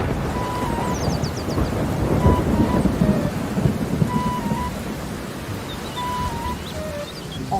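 A thunderstorm with steady rain and rumbling thunder, loud and continuous, with faint bird chirps in the background.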